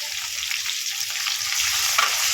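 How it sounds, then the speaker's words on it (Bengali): A large onion frying in oil with cloves, cardamom, cinnamon and bay leaves for a soybean and potato curry, heard as a loud, dense, continuous sizzle up close with no voices. "একটা বড় সাইজ পেঁয়াজ দিয়ে এটাকে লাল করে ভেজে নেব"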